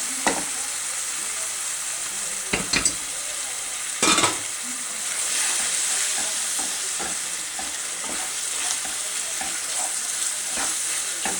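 Spinach cooks with a little water in a pan with a steady soft sizzle, broken by a few sharp clanks and scrapes from stirring, heard close with no talking.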